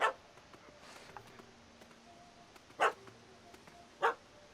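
A dog barks in The Witcher 3: Hearts of Stone: three sharp, separate barks spread over a few seconds, fairly close, over a quiet game background.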